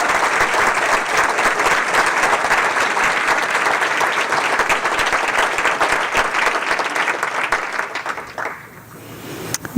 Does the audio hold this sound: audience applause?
yes